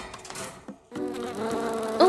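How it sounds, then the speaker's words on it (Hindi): A fly in a cartoon buzzes close and loud, a wavering drone that drops out briefly and then returns more strongly, rising at the end. "एक मक्खी ने मुझ पर हमला कर दिया।"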